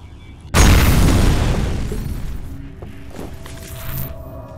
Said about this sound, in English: Have a grenade.